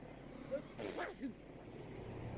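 A single sharp sneeze, fairly close, bursts out once against a quiet, low background hum.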